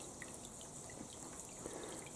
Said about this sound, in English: The submersible pump sucks up water to the top, and then it all dribbles down through the wood shavings, just like your normal swamp cooler.